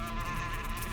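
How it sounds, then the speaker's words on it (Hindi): Bees swarm around a beehive in a TV crime drama scene, making a dense, continuous loud buzzing drone up close with no break. "और मधुमक्खी के छत्ते को छेड़ना"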